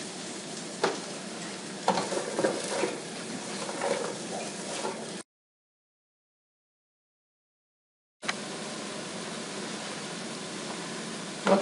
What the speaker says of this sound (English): this has been sauteing probably 3 or 4 minutes